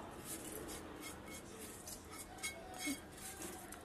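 A spoon stirring tempering into rasam in a pot, Kerala-style home cooking: soft scraping and faint metallic clinks of utensil against the vessel, quiet and close, with a couple of slightly louder taps.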